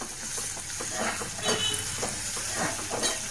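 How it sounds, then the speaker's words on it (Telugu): Ginger garlic paste frying in a pan gives a steady, close sizzling hiss with light stirring scrapes throughout, no talk. "అల్లం వెల్లుల్లి పేస్ట్ పచ్చివాసన పోయేంత వరకు దాన్ని కూడా బాగా వేయించుకుందాం"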